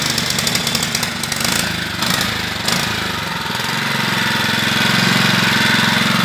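An engine fed hydrogen and oxygen into its air intake runs loud and close with a steady, rough, mid-pitched chug. A faster rattling texture fades in and out early on.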